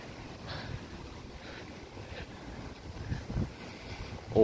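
Strong wind ahead of an approaching hurricane roars steadily outdoors, buffeting the microphone with rough gusts that swell near the end; no one speaks.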